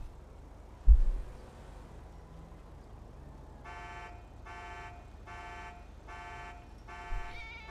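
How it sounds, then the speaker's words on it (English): Phone alarm going off during a snowed-in livestream, a repeating series of five bright electronic beep bursts in steady rhythm over low room noise. "My alarm's going off."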